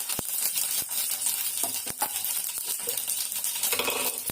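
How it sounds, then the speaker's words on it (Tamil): Mustard seeds popping in hot oil for rasam, with curry leaves and chillies added, giving scattered sharp crackles and ticks over a light sizzle, near and fairly quiet. "எண்ணெய் காயுது அது கூட கடுகு போட்டுக்கலாம்"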